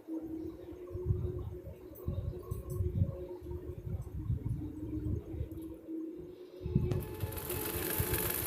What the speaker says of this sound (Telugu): ఇక్కడ కూడా ఒక అంగుళం నేను వదిలేసి కుడుతున్నాను ఈ విధంగా వస్తుందండి